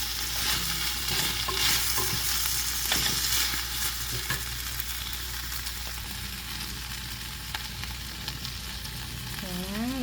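Leftover shrimp gambas frying in a pan, a steady close sizzle with occasional stirring scrapes running throughout, with no talking.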